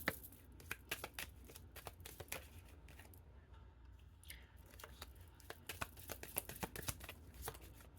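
Tarot cards are handled and drawn from a deck in a quiet room: soft, close, rapid flicks and papery riffles come in irregular bursts, with a short lull partway through.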